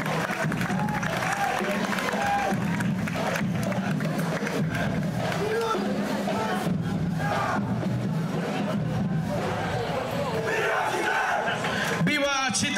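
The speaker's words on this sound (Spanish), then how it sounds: "Fuerte ese aplauso." Outdoor parade crowd at the Chitré 2024 school parade cheering and clapping, a continuous loud wash of shouts, applause and chatter with voices yelling throughout.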